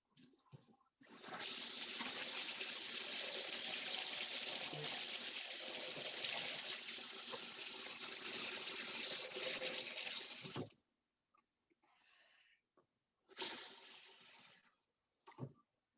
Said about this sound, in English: Add more hot water actually.